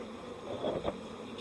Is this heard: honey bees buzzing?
yes